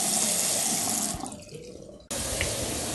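A bathroom vanity sink faucet runs a steady, close stream of water that splashes into the basin, briefly quieting before the flow resumes at full strength.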